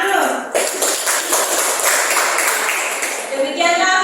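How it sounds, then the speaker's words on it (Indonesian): Audience clapping after a group presentation in a classroom lesson, a dense burst of many hands that runs steadily for about four seconds and is loud and close, with some voices mixed in. "Oke, tepuk tangan dulu."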